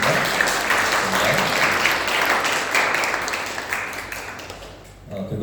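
A congregation applauds during a Sunday worship service at a church in Bali, welcoming visiting church members; dense, steady clapping from many hands fills the room, easing off toward the end before a brief swell.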